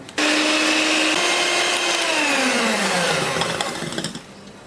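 Electric hand beater whirring at high speed through pound cake batter, starting abruptly with a loud steady whine whose pitch gradually sinks as it works, then tapers off near the end.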